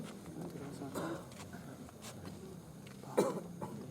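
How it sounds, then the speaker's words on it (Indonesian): A sick man with a month-long cough coughs during a consultation, two short hacking bursts over a murmur of speech and low room noise. "Batuk terus?"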